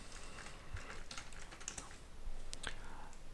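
Code is typed on a computer keyboard while a Unity AI script is written. Quiet, irregular clicks and taps come in short bursts with brief pauses.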